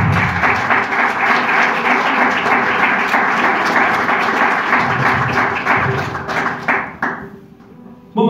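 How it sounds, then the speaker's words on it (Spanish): A church congregation claps together in loud, sustained applause that fills the room, then tapers off and stops abruptly near the end. "Dale un fuerte aplauso, Señor."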